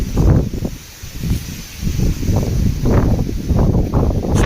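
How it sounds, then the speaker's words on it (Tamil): Strong wind gusts across an open tomato field, buffeting and rustling in uneven surges close to the microphone, with no voices. "காற்று நல்லா அடிச்சிட்ருக்கு இந்த ஏரியா இந்த ஒரு மாதமாக விடாத காற்று தான்"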